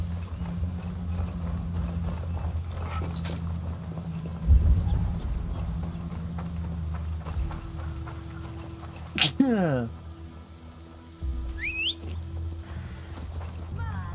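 Horse hooves clip-clop in a steady trotting rhythm in Assassin's Creed Valhalla, moderately close, with a player talking over them and a brief thud and a sliding game tone midway.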